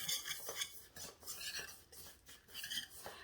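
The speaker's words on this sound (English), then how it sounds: "And then we're going to kind of just mix this together." Ingredients get mixed in a bowl with a utensil, soft scraping and clinking strokes repeating in a quick uneven rhythm, faint and close.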